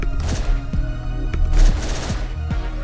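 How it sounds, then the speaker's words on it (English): Rapid Uzi gunfire from the Hotline Miami video game, several quick bursts of sharp shots repeating over about three seconds, loud and upfront against the game's music, with no talking. "Yeah, Uzi."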